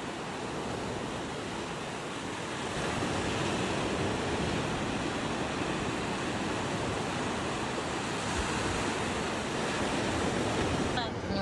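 Wind and surf roll steadily at a beachfront on a Philippine island, a broad continuous wash of waves with wind buffeting the microphone and growing slightly louder after the first few seconds.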